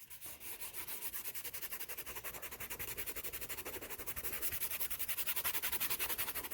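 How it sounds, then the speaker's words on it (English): A fingertip rubs paint into the stucco-textured surface of an art journal page, giving a steady, close, soft rasping scrape in quick repeated strokes throughout, with no talking. "Now I'm just rubbing it in with my finger to kind of blend it all together."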